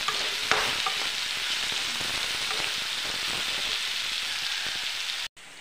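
Sabudana is stirred and roasted in a hot pan, making a continuous close frying crackle with scraping spoon strokes, steady and moderately loud, then it cuts out abruptly near the end, with no speech.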